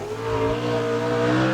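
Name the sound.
sprint car with 600 horsepower Chevy V8 engine racing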